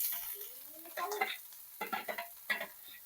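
Onion fries in a pan as chili and garlic go in, giving bursts of sizzling and stirring scrapes separated by short pauses, close and moderately loud. A whistling tone at the start slides upward.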